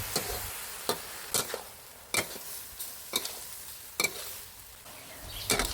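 Tofu being stir-fried with holy basil leaves in a wok, a soft low sizzle punctuated by about eight sharp spatula scrapes and clacks at irregular intervals, close by.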